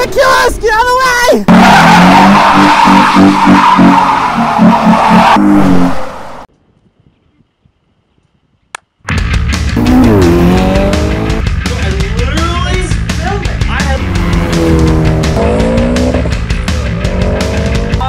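Tires of a 2012 Ford Mustang V6 squeal and skid loudly near at hand over a roaring engine, cutting to a brief silence before another long stretch of screeching tires and revving.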